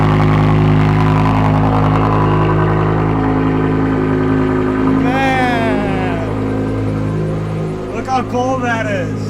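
A BMW E63 M6 engine idles steadily while warming up, a deep, even drone close by, with someone talking over it in the second half.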